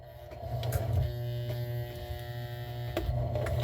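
A sewing machine runs with a steady electric hum and buzz at close range, holding constant for a few seconds with small clicks layered over it and no voices.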